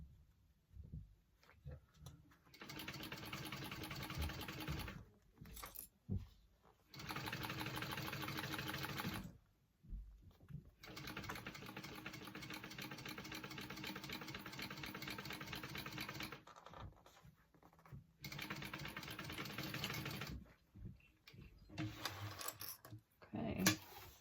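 A sewing machine stitches through a fabric tote bag seam in long sustained runs with short pauses between them, whirring steadily and fairly close, with brief voice sounds in the gaps.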